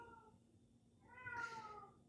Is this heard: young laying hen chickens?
no